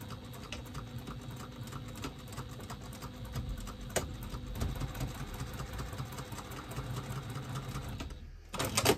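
Domestic sewing machine stitching a seam with matched seam allowances on a quilted halo item, a steady low mechanical whirr running quietly throughout, stopping briefly near the end before starting again.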